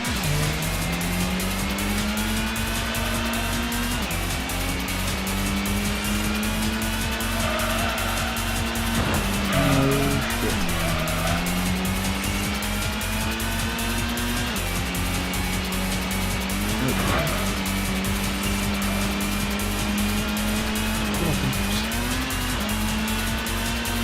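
A racing car in a 1998 PS1 video game drones with a steady buzzing engine, punctuated by several sharp tire squeals and skids as the pitch rises and dips through corners.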